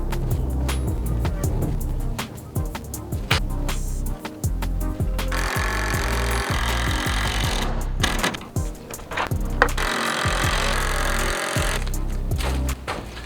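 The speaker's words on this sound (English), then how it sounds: "Somebody want to pass me that drill?" A power drill whines and grinds steadily and loudly, with brief pauses and bursts as it drives into wooden trim boards on a chicken coop, running nearly the whole time.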